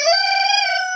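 A farmyard chicken, probably the rooster, gives a single sustained, tonal call lasting about a second. It is fairly loud and close, with no voices.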